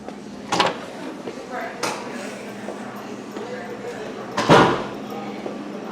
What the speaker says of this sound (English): open the door in here